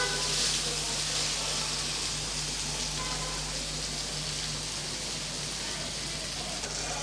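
Fish fry with a ground masala coating sizzles in a pan in a continuous, even hiss with a low steady hum underneath, moderately loud and close, with no speech.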